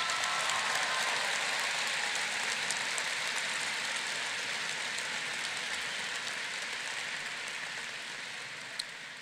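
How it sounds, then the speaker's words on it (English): Large graduation crowd applauding at a high school ceremony, a dense, steady roar of clapping that fills the whole stretch and fades slightly at the end. "Let's give a huge round of applause to our faculty, our administration, and our staff at Battlefield High School."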